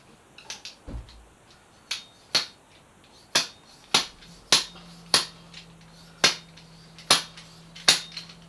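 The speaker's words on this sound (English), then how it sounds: "And then slide hammer time." A slide hammer pounding motorcycle fork seals into a Yamaha FZ6R fork tube: about a dozen sharp, evenly spaced metallic knocks, close and clear, with no talking.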